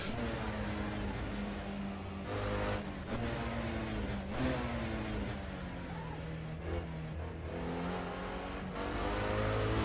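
A historic Chevron sportscar races at Le Mans in the Assetto Corsa game, its engine howling at high revs with several sharp downshifts and pitch drops, and faint background music.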